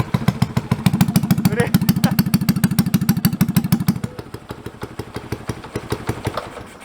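A Honda Wave motorcycle with a Wave 125X exhaust and no end cap idles loudly in a fast, steady thumping rhythm, near and dominant. It eases to a lighter putter after a few seconds.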